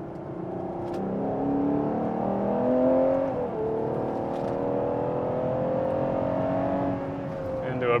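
A motorcycle on a track brakes into a corner, downshifts to third gear and accelerates back onto the straightaway, with engine tones dropping and then climbing in a strong, close roar that ends on a sharp rev.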